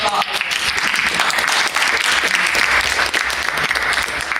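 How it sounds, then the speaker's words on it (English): An audience gives a round of applause at an event about the crisis in DR Congo, a dense, steady clapping that fills the room throughout. "We could give them a round of applause."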